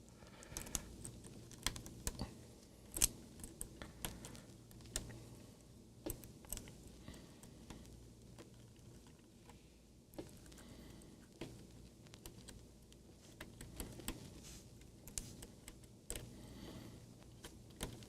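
Keycaps pried off a keyboard with a keycap puller: a long run of small, irregular plastic clicks and snaps at close range, with quiet rustling between them.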